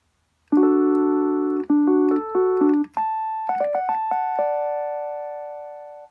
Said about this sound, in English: So now we have electric piano.